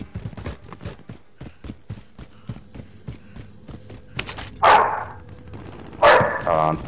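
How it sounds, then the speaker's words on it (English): Pet dogs bark in a home during a Warzone trios session, several bright barks in short bursts near the end, close and loud over a steady run of rapid clicking and game noise. "Oh, I'm sorry, my dogs are barking again."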